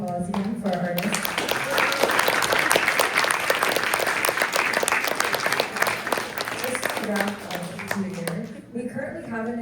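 An audience at an art and technology salon applauds the artists, with dense steady clapping lasting several seconds under a talking voice that is heard at the start and again at the end.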